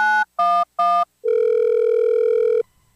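A cell phone dialing a call, three short electronic tone bursts followed by a long steady ringing tone, loud and close, used as a podcast sound effect with no talk.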